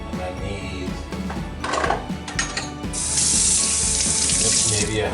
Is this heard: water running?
yes